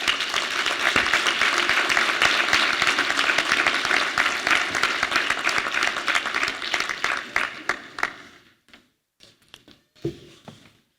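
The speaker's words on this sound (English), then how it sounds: "Can we get another round of applause for Brandon and Gary?" Audience applause at a high school equivalency graduation ceremony, a dense sustained roar of many hands that thins out after about eight seconds into scattered final claps.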